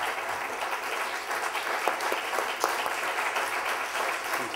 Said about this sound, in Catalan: demanem un aplaudiment